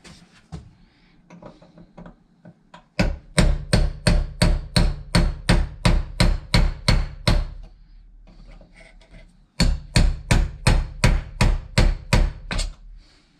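Small chisel hammered against a stuck plastic washer hose fitting, two runs of sharp evenly spaced metallic knocks, about a dozen blows each, loud and close, separated by a brief pause.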